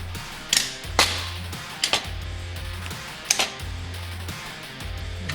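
Truck Bed Dolly being opened up, a series of sharp metallic clicks and clunks from its mechanism at irregular intervals, close by, over a low steady hum.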